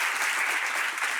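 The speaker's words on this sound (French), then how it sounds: "Ça s'applaudit, alors oui, bien sûr." A studio audience at a television talk show gives a short burst of dense, steady applause, close and even, with no talk over it.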